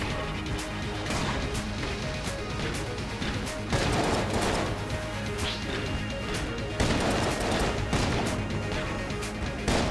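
Rapid bursts of gunfire from a weak gun in Enter the Gungeon, with dense repeated shots, impacts and crashes running continuously through the game's action sounds.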